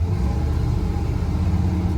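A 1969 Chevrolet C-10 pickup with a small block Chevy engine and dual exhaust idles with a steady, close, deep rumble and no speech over it.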